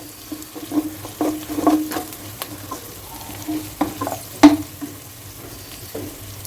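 Ginger, garlic and onions fry in a pan, with a low sizzle under scattered clicks and scrapes of stirring, close and moderately loud, with no talking.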